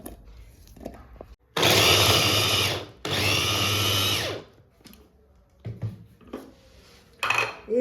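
An electric kitchen grinder blends ginger, green chillies, garlic and onion into a coarse masala, running in two loud whirring bursts of about a second each, followed by knocks and handling clatter.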